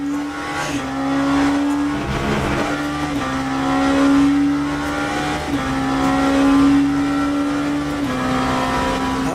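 A race car engine in a sim-racing game revs high, then drops pitch with each upshift, a clear step pattern repeating several times as the steady drone climbs again.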